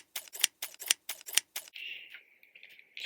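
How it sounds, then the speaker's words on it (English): Scissors snip open a craft-store package at close range: about seven sharp, crisp cuts in quick succession, then a softer rustle and scrape of plastic packaging. "These scissors."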